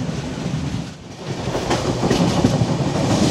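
A Konkan Railway train on the Mumbai to Goa line rolls along with a steady, loud rumble and rhythmic clickety-clack of wheels over rail joints, heard from onboard without any talk.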